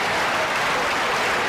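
Table tennis crowd in Budapest applauding at a Ma Long versus Xu Xin match, a brief dense burst of clapping close by.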